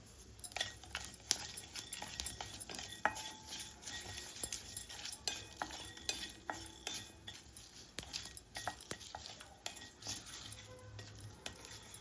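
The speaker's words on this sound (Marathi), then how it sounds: "ते आता भाजून घेऊया तर खडे मसाले जे आहेत ते टाकलेत मी थोडंसं तेल टाकूया आपण ह्याच्यात तमालपत्र जिरे" Whole spices, bay leaf and cumin, roast in a little oil in a pan for a winter masala blend, a quiet steady crackle broken by frequent clinks and scrapes of a stirring spoon, no voices.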